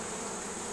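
Honey bees buzz steadily at an open hive during a mite-load inspection, a dense, continuous drone filling the short moment with no voices.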